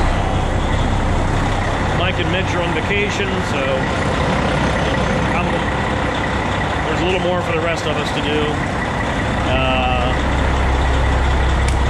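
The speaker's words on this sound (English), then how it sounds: "So I'm going to start these trucks up and get them out of here." Farm trucks rumble steadily at a barn, a deep engine drone running the whole time beneath someone talking close by, with faint higher beeps now and then.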